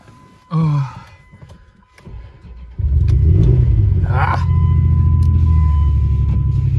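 A dirt bike engine cranks, catches and settles into a steady, rumbling idle close by, after a few seconds of quieter handling noises.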